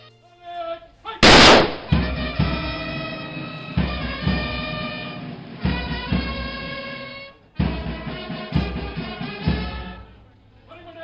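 Gun salute fired at a state funeral: a sharp loud volley opens, followed by a sustained brass tune with repeated phrases and steady rhythm, close and loud.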